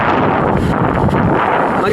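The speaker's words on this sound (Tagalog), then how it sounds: "Malakas na ng hangin dito sa amin" Strong typhoon wind in Aklan, Philippines, battering the microphone as a steady, loud roar with gusty buffeting, with no break across the whole stretch.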